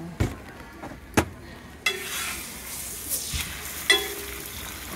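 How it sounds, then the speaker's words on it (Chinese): An egg pancake fries on a hot griddle, a low sizzle punctuated by several sharp scraping and tapping knocks from a utensil at irregular intervals. "鸡蛋煎饼。"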